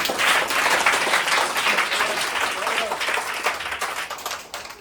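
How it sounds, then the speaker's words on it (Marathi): Schoolchildren on an educational trip clap in welcome, a sustained, fairly loud patter of many hands that slowly eases off, with voices talking over it. "स्वागत टाळ्या वाजवून स्वागत करणार"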